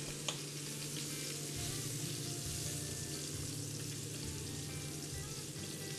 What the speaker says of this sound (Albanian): I kthejmë që të mos digjen.